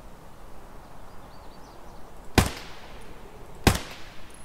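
Two sharp, loud gunshots ring out about a second apart in Escape from Tarkov, over quiet ambient background.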